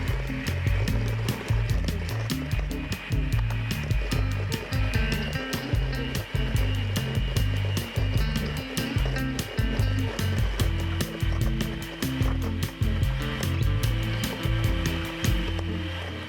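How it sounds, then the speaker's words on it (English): An electric hand mixer whipping banana bread batter runs steadily and close for the whole stretch, a continuous whirring drone with a faint rhythmic scraping as the beaters move through the bowl. "if you have one of these electric mixers, you wanna start it on low before you continue going really fast"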